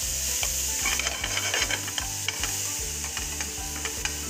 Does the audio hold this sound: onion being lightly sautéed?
yes